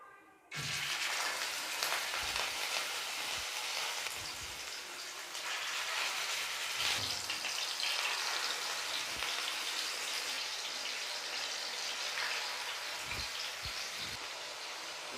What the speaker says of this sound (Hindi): ऑयल को मैंने कर लिया गरम, इसमें मैंने 2 से 3 चम्मच डाला ऑयल। और अब इस टाइम मैं इसमें डालूँगी ये कबाब।